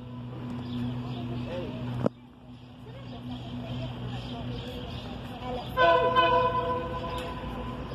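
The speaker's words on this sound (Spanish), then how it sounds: "tren 265 proveniente de Retiro rumbo a Sevil Pozo con la locomotora CKD" A CKD diesel locomotive hauling passenger train 265 from Retiro pulls into San Nicolás station, a steady engine rumble and rolling noise that swells near the end with tonal squeal, while a voice talks over it.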